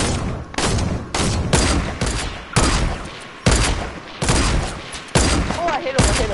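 Rapid gunfire in a PS4 shooter game, loud repeated bursts of shots coming in close clusters roughly every half second, with the players' voices faintly mixed in.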